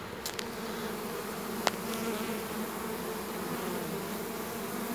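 A dense, steady buzzing of many honey bees, continuous and close, with a few brief clicks and no voices.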